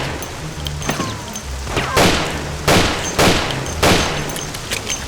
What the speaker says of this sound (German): Hey, Tom, die Typen haben Kanonen